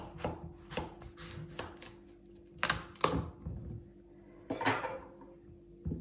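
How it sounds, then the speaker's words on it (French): A knife cutting a courgette in half on a board, several sharp, close thuds and clicks spaced irregularly with quiet gaps between. "Ensuite, je vais venir la couper en deux parce qu'elle est un peu large."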